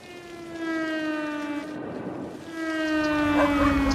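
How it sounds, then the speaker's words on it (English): A tornado warning siren wails a steady, tonal drone from a distance. It dips briefly midway, then swells back louder, alone without voices. "If you zoom in, you can hear the tornado siren."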